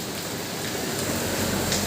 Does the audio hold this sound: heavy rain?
yes